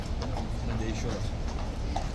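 Horse hooves of mounted soldiers clop steadily under a constant wash of crowd noise and talking, moderately near.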